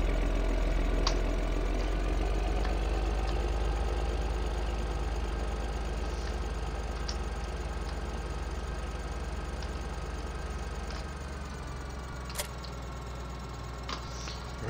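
A tractor with a planter idles steadily in Farming Simulator 2013, a low continuous engine drone with faint ticking, running alone without talk for the full stretch at an even level.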